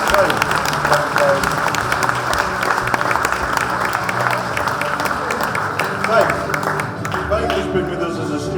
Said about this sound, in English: So a big round of applause for these three.